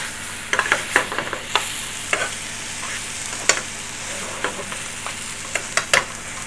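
Fried paneer being stirred and coated in a sizzling pan for saag paneer in a takeaway kitchen, with scattered spatula clicks and scrapes over a steady low frying hiss.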